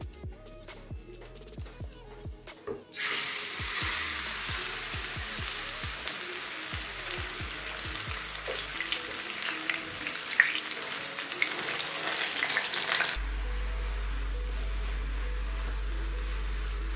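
Chicken mince paste hits hot mustard oil in a wok: faint ticking gives way to a loud, steady hiss of frying that holds for about ten seconds and then cuts off abruptly.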